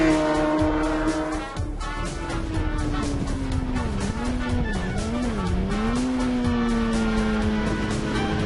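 A specially prepared BMW safety motorcycle lapping a race track, its engine droning loud and close with a rising and falling pitch as the rider works through gear changes and corners over several seconds.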